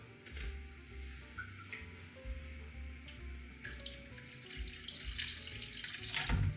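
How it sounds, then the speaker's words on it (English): Water running from a tap into a pot of oxtail stewing in tomato, passata and plum tomato sauce, a steady close splashing flow that lasts throughout and grows slightly louder toward the end. "Add some water."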